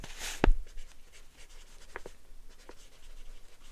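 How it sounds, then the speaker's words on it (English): A shipping label gets a weight written on it by hand, with a brief firm pen scratch near the start and then a few faint, short strokes spread across the quiet remainder. "So I'm just going to write this in as 2 pounds."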